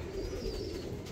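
A pigeon coos softly nearby, one low, throaty burbling call over faint steady background hum.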